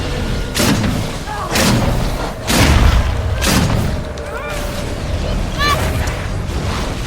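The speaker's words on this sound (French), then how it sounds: "Grenade lancée." A grenade detonates in the Evolve video game, with several deep booming blasts rolling over continuous game noise while players talk throughout.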